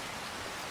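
Steady, soft rain hiss in the video game Farming Simulator 25, a brief continuous wash of falling drops without any voices.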